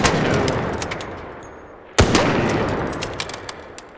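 Sniper rifle fire in the Arc Raiders shooter game: a single sharp, loud crack stands out midway through, over a continuous, fading wash of battle noise and scattered smaller impacts.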